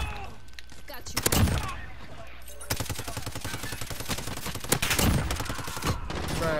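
Rapid bursts of automatic gunfire in the video game Call of Duty: Modern Warfare, loud and dense, with heavy volleys around the middle and again near the end, partly overlapping voices.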